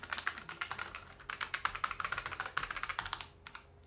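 Keys pressed repeatedly on an old Apple IIe computer keyboard, a close, fast run of sharp clicky taps that stops near the end.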